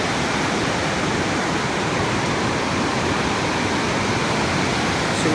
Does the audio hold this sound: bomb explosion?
no